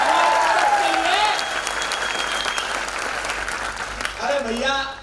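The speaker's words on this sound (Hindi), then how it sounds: "एक जोरदार तालियां होनी चाहिए हमारे प्रोडक्ट के लिए।" Audience applause at a product recognition event in Indore. The clapping is steady and fairly loud, with voices and musical tones over it, and it swells again near the end.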